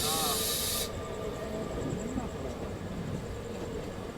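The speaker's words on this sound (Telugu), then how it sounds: "వావ్, మెమో ట్రైన్ అండి బాబు." A MEMU passenger train near Warangal rolls past with a steady rumble and rail hiss, a brief high-pitched squeal at the start and faint wheel screeches throughout, close by and continuous.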